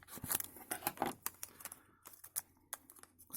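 Scissors snip and cut through the plastic packaging of a small 1A 3.7V Li-ion battery charger board, with a run of sharp, close crinkly cuts and rustles in an irregular rhythm, no talking.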